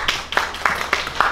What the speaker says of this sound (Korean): 우리 두기스를 위해서 박수 한번 부탁드립니다